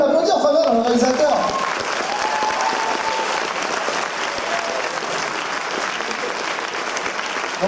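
Sustained applause from a convention crowd at a festival opening ceremony greets the director. A voice trails off at the start, then steady clapping continues throughout.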